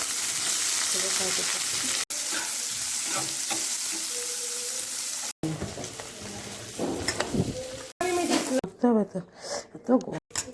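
Sliced onions hit hot oil in a pan while cooking a dim vorta dish, giving a steady loud sizzle and crackle with stirring clatter, someone speaking over the frying at times.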